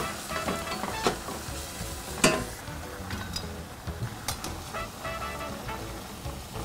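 A pan of asparagus and pasta is shaken over the heat, giving a steady close sizzle with scattered clanks and a sharp knock of the pan, moderate in level with no talk.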